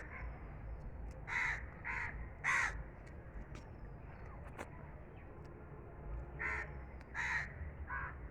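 A crow caws repeatedly outdoors at a lychee tree, several harsh calls in short bursts with pauses between, over a steady low background hum.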